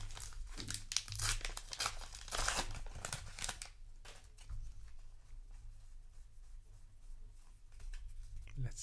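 Foil wrapper of a Flesh and Blood Uprising trading card booster pack being torn and crinkled open, close and crackly in short busy bursts that ease into softer rustling and handling.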